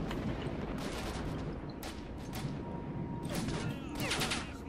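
Gunfire in S.T.A.L.K.E.R. Shadow of Chernobyl, scattered shots cracking out at irregular intervals over constant background noise during a firefight.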